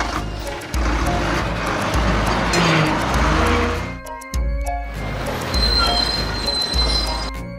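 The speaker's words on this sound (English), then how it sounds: "Berlin bus." Cartoon Berlin city bus on the move, its engine droning loudly and steadily with rattly road noise, dropping off for a moment before the motor picks back up.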